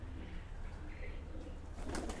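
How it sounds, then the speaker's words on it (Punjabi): Pigeons kept in breeding boxes at a farm give soft, low coos amid a steady background hum, with a brief flutter of wings near the end. "ਆ ਦੇਖੋ ਜੀ ਕਬੂਤਰ ਕਿੰਨੇ"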